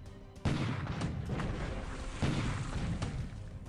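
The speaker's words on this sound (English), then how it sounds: "Some bombarding of Johnston Island by a Japanese battleship group" A Japanese battleship group bombards Johnston Island in a naval video game, with heavy booms at irregular intervals, each followed by a long, rumbling wash of noise.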